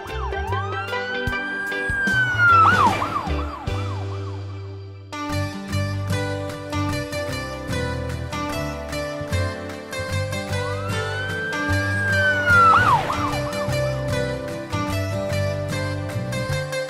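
A wailing police siren sweeps up and down, loud and close, repeating its rising-falling cycle with a steady electronic tone underneath.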